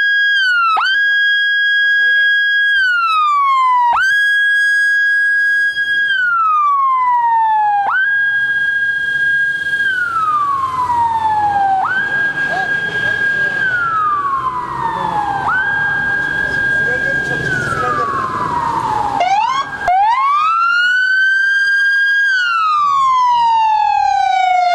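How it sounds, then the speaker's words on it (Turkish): Sirens wail repeatedly during a funeral ceremony for a deputy governor, each long rising-and-falling tone loud and close, the cycles following one another with short gaps and a faint murmur beneath. "Sirenler çalıştı."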